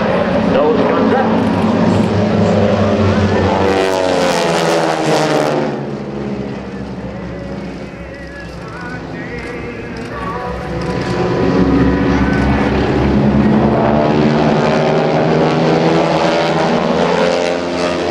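Propeller aerobatic planes of the Aeroshell Aerobatic Team fly over a Dover AFB airshow, their engines droning loud and continuous, dipping in the middle and then swelling again, while an announcer talks over the PA.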